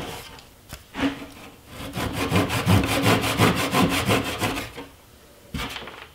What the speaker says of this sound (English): now I'm going to cut the plug flush with the tabletop with a pull saw